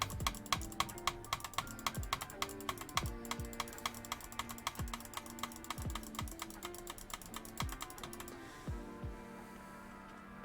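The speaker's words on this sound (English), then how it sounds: "I'm just two-handed clicking the optimize button." Rapid, fast two-handed mouse clicking on a computer's optimize button, a dense run of sharp close clicks that goes on steadily and then stops near the end, with no talking over it.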